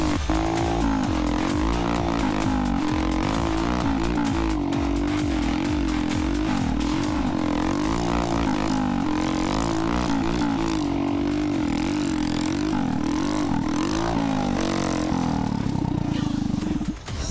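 A delivery motorcycle engine in Ventanilla runs loud and close, its steady harmonic drone rising and falling as it revs, with rough clattering texture throughout and nothing else heard over it.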